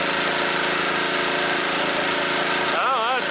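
Close, loud engine drone from a scrapyard generator straining at maximum load, running continuously with a voice briefly rising over it near the end.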